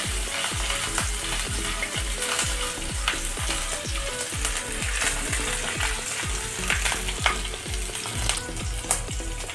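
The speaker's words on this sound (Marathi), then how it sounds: "मिरची आता फ्राय करून झालेली आहे।" Green chillies sizzle and fry in a pan with peanuts, a steady close crackle with regular scraping strokes of a spatula stirring throughout, no voices.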